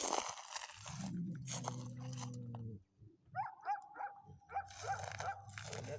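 A tethered, agitated dog growls and snarls in low rumbling bursts, with crunching chewing sounds and a few short yaps mixed in.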